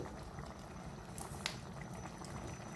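Egg curry simmering in a pan, a steady soft bubbling and sizzle that holds at an even, fairly quiet level, with a few faint pops and ticks rising above it.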